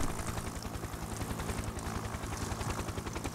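Rapid rhythmic rotor chop of a helicopter taxi in the video game Happy Wheels, a steady fast thumping pulse with engine drone throughout, no voices.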